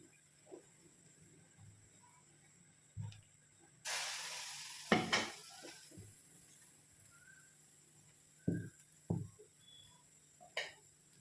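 Gram flour being stirred into a hot pan for a sweet snack: a sudden loud sizzling hiss that swells and fades, surrounded by quiet moments with sparse scraping clicks of a spoon.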